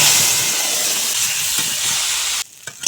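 Potatoes rubbed with turmeric and salt fry in oil with a loud, steady sizzling hiss, then the sound drops away abruptly near the end, leaving a few faint crackles and clinks.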